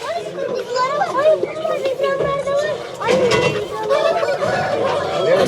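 Loud clucking and crowing of many roosters, chickens and other fowl close by at a poultry market in Sakarya, Turkey, with people talking among them.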